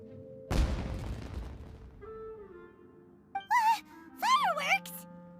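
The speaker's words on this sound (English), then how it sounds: "It sounded like fireworks." Fireworks go off in the video game Genshin Impact: a sudden crackling burst, then a softer rumble and two bright, wavering whistle-like tones near the end.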